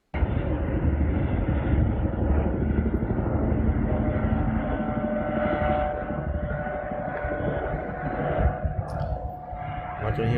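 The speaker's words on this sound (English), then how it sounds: "I can hear a helicopter." A steady, droning helicopter rumble continues throughout, fairly loud and unbroken, with a faint extra whine near the end.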